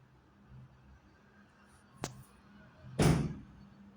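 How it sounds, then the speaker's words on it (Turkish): Two separate bangs from a door at a nearby school, a sharp crack followed a second later by a louder thud, each standing out against a quiet background with no talk. "Ne ya durup durup kapı sesi çat çat çat çat."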